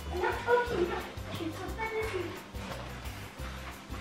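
A young puppy at home giving short yips and whimpering barks, close but fairly soft, mixed in with people talking nearby.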